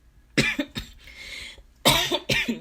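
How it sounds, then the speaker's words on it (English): A young man coughs from allergies, two sharp bursts of coughing close to the microphone separated by a quieter pause, with no talking. "My allergies make me cough quite a bit"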